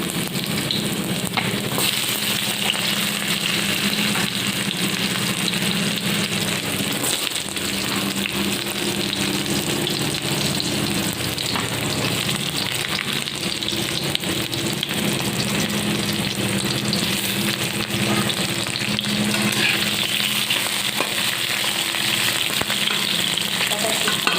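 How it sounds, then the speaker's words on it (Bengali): Vegetables frying in hot oil tempered with bay leaf and green chili, a dense steady sizzle with stirring that holds evenly throughout at close range, with no talking. "এবার আমি তেলের ওপর দিয়ে দিয়েছি ফোড়ন তেজপাতা কাঁচা লঙ্কা এবার আমি দিয়ে দেবো সবজি"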